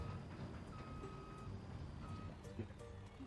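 Steady truck reversing beeps repeat in a farming game, sounding over a continuous low vehicle engine rumble with some background noise.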